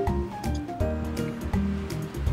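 Ocean waves wash steadily against the seaside at Chatan, Okinawa: a continuous, fairly loud surge with rhythmic swells and a faint tonal hum underneath.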